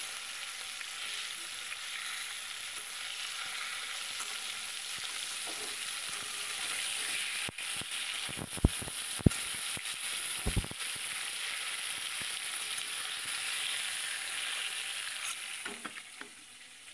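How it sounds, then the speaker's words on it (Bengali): Lata fish fries crisp in a pan under a steady, fairly soft hiss of oil, broken midway by a few sharp knocks and scrapes from stirring. "এই ল্যাঠা মাছটা বেশ একটু কড়া করে ভেজে নিতে হবে।"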